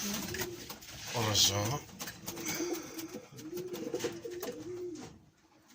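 Pigeons coo steadily close by with their chicks set out in the sun in a home loft, soft repeated throaty calls under someone talking in Arabic.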